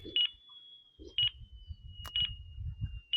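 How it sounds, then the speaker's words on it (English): An RC plane's flight timer gives four short, high, evenly spaced electronic beeps about a second apart, fairly faint, over quiet outdoor background noise and a low hum. "So timer is up."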